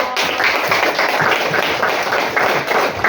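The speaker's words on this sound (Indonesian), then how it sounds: "Tepuk tangan buat kelompok 1" Students in a seventh-grade classroom give a group of classmates a round of applause, a loud, close, dense burst of many hands clapping continuously with irregular thumps throughout.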